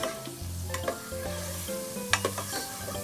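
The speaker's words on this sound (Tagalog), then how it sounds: "Tutunawin lang po yung margarine." Margarine melting in a pan, with a steady sizzle and frying crackle under repeated stirring scrapes and occasional utensil clinks, fairly close and moderately loud.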